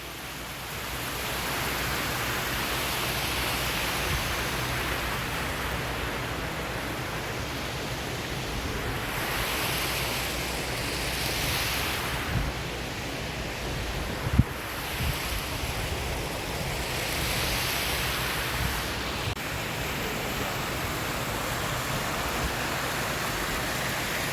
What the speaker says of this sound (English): I really enjoy the sight and sound of that fountain